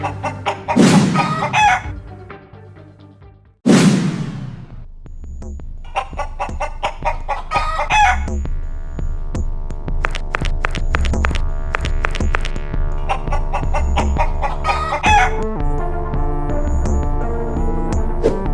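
A rooster lets out two loud, close crows, then clucks and calls intermittently over a steady throbbing backdrop of music, with no talking.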